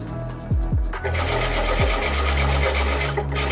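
A sewing machine runs steadily, stitching fabric along a tear-proof placket opening, its fast mechanical whir loud and close with a brief stop-start near the beginning.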